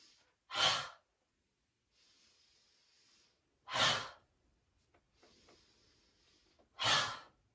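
Slow yoga breathing, three deep audible exhales spaced a few seconds apart, close and clear, with quieter inhales between them.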